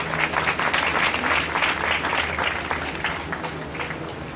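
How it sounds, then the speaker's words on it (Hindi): A church congregation claps for newly baptized members, with fairly loud, rhythmic clapping in pulsing waves that softens slightly toward the end. "इनके लिए जोरदार ताली बजाएंगे।"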